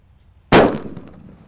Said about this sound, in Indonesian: di sini ada New Happy Flower. Ini seperti mercon Thunder guys suaranya guys